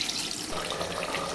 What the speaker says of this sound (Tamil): இப்போ இந்த தண்ணியை வந்து ஃபில்ட்ரு பண்ணி வச்சுக்கலாம்